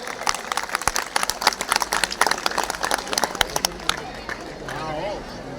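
An audience at a Lohri celebration event breaks into dense, lively applause that swells and continues for several seconds before fading, with crowd chatter underneath.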